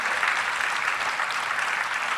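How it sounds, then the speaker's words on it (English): Audience applause for panelists at a bank-hosted tech fair, a steady, dense wash of many hands clapping throughout, close and even in level with no voices on top. "Please let's applaud them again for the conversation."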